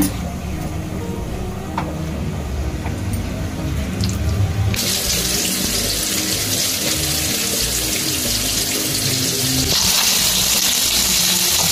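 Fish pieces dipped in fine chiroti semolina fry in hot oil in a pan for a hotel-style fish fry, making a steady, loud, hissing sizzle that grows slightly louder partway through.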